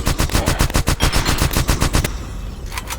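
Rapid automatic weapon fire in the sci-fi survival shooter SpacePunk, a loud fast burst of evenly spaced shots lasting about two seconds, then a brief pause and a couple of quieter trailing shots.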